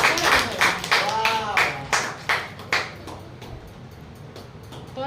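A few people in an audience at a Sanskrit Bharati certificate event in Gujarat give a short burst of sharp, spaced claps that fades out after about three seconds into quiet room noise.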